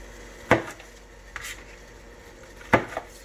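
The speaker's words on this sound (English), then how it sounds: "We're going to cut these in half lengthwise." A knife cuts peppers in half lengthwise on a board, two distinct firm thunks about two seconds apart with a faint scrape between, close and clear in a quiet kitchen.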